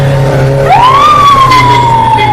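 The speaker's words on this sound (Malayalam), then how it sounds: "ആംബുലൻസ് ചീറിപ്പോയ" An ambulance siren wails loudly and close, its tone rising sharply then holding a long high note as it speeds past through the crowded streets of the Thrissur Pooram festival in Kerala, over a steady low traffic rumble.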